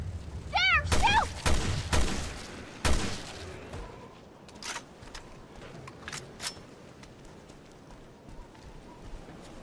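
Gunfire in the survival-horror video game Resident Evil Revelations 2: a few sharp bursts of shots early on, followed by scattered fainter game effects and a quieter noisy background.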